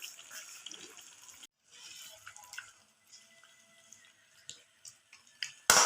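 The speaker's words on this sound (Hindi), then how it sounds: "चूल्हे की आंच ज़रा बढ़ा देंगे ताकि चिकन अच्छे से फ्राई हो जाए" Chicken for aloo chicken with gravy frying in a pan on a stove with the heat turned up: a soft, crackling sizzle with scattered clinks and stirring sounds, ending in a sudden louder hiss.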